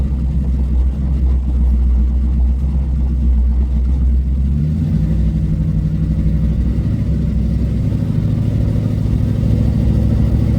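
A Plymouth Satellite car engine revs while cruising, a loud, close low rumble that drops in pitch midway as the driver shifts gears, then settles into a steady drone.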